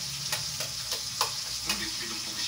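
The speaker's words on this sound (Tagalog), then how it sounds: "Gisa-gisa na, gisa-gisa." Garlic sautéing in a hot pan, a steady bright sizzle running throughout with a few sharp spits and clinks from stirring, close and moderately loud.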